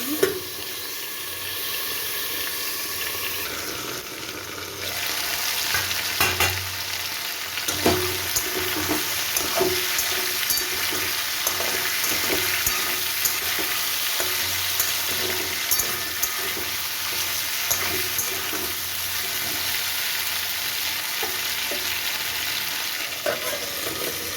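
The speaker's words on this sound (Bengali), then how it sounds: "আলুটা পুরো ভাজা হয়ে গেছে সুন্দর করে" Potatoes frying in oil in a pan for a poppy-seed drumstick dish, a long steady sizzle with frequent scraping stirs and occasional clinks, close and even throughout.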